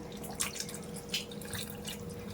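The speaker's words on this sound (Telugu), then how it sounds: "కొద్దిగా వాటర్ పోద్దామండి" Water trickles and splashes softly into a pan of yogurt chicken curry, with a few brighter splashy bursts over a steady low hum.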